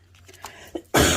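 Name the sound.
cough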